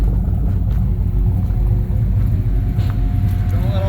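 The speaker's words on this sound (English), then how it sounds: "Car sounds really good." A 1989 Mercury Grand Marquis fitted with P heads idles with a steady, deep engine rumble, loud and close for the whole span, with no break in the drone.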